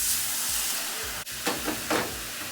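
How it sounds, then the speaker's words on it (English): Water hisses and sizzles in a hot pan, a steady broad hiss with a few brief louder bursts of spitting toward the end. "Listen to it sizzle."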